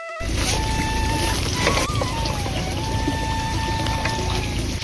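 Water pours steadily into a dug pit in an apple orchard, a continuous close rushing and splashing that runs without a break from start to finish.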